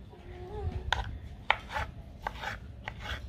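A knife chops ingredients finely on a board for homemade hair oil, striking in a steady run of sharp, close chops over a low background murmur.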